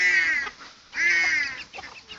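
Hens, including a silkie hen raising a chick, give two loud, drawn-out clucking calls close by. A short gap separates the calls, and softer murmurs follow after them.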